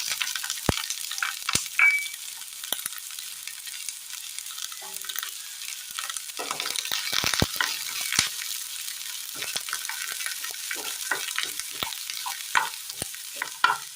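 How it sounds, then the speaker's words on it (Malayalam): Chopped shallots fry in hot oil in a pan with a soft, low sizzle, broken by sharp clicks and scrapes of stirring that come and go at an uneven pace. "ചെറിയുള്ളി അരിഞ്ഞ് ചേർത്ത് വെക്കാം"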